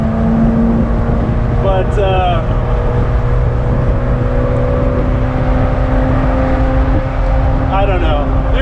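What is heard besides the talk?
Ferrari 348ts engine cruising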